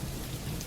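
Steady, even rain patters continuously with a soft low rumble beneath, a brief unbroken wash of sound.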